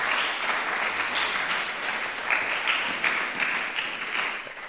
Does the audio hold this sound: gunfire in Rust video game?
no